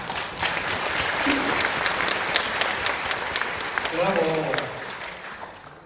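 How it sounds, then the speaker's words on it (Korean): An audience gives loud, sustained applause for a city mayor at a ginseng expo launch ceremony, a steady crowd clapping with some voices audible under it late on. "여러분들 큰 박수 한번주십시오"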